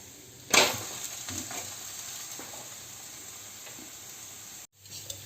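Ragi roti made with peanut flour cooking on a hot pan over high flame, a soft continuous close sizzle after a brief loud clatter near the start, cutting out abruptly near the end.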